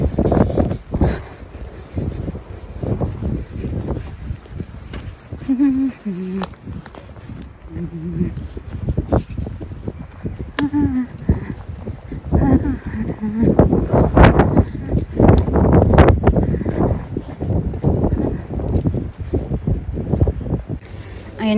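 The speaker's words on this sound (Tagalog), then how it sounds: "Lakas ng hangin. Naririnig yung hangin." Strong gusty wind outdoors near a UK bus stop buffets the microphone in loud, uneven rumbling bursts, mixed with footsteps as someone walks and talks throughout.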